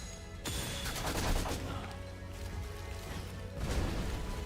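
Heavy gunfire and explosive blasts from the video game Beast of Reincarnation on PS5 Pro, a loud dense barrage after a brief quiet start, no talk.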